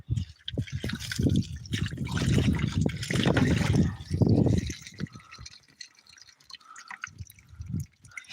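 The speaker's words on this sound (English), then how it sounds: "Let's pour some water on it." Water poured out from a carried supply in bursts, splashing and dribbling in several uneven pulses over a few seconds, then trailing off into a few faint drips.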